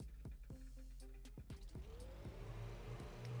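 In the video game Brick Rigs, a fire truck starts and pulls away, with a few sharp mechanical clicks and knocks before a low motor hum rises and pitch climbs as it accelerates, moderately close and fairly quiet.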